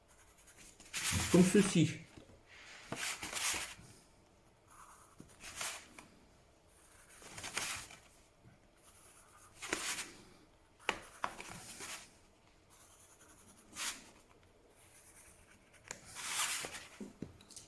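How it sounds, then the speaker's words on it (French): A pencil scratches along origami paper in separate bursts of tracing strokes, each lasting a second or two and separated by quiet gaps, while a person speaks briefly in between. "Maintenant, il suffit de tracer les branches"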